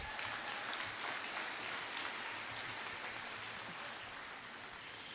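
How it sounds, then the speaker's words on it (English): Applause at a middle school moving-up ceremony, a dense, steady clatter of many hands clapping together that holds for several seconds and eases off slightly toward the end. "A round of applause."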